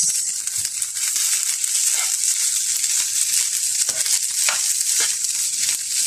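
Red mixed fried rice with egg fries in a pan, giving a steady, bright sizzle. Scrapes and stirring clatter break in now and then, close by, and no one speaks.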